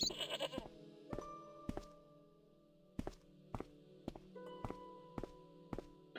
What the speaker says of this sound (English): I'm scared to get closer to the goat.